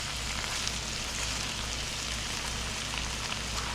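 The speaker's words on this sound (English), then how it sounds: "I have the meat cooking" Meat for tacos sizzles steadily in a pan, giving a constant, even hiss with no breaks or talking.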